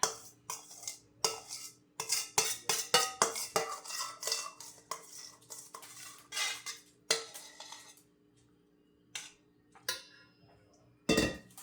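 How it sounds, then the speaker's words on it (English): Metal spoon scraping and clinking inside a cooking pan while sauce is stirred into noodles and peas, a quick irregular run of knocks and scrapes that thins into sparse clinks with pauses, close and fairly loud, no talking. "Get this all mixed in there good before we put the veggies in"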